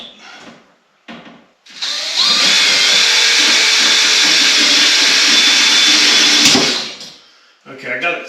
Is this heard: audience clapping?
no